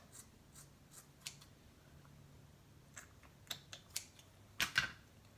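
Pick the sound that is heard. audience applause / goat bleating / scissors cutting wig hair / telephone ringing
scissors cutting wig hair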